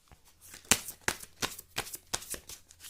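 Tarot cards being shuffled in a run of quick, crisp riffling snaps at an uneven rhythm, close and moderately loud, with no talking.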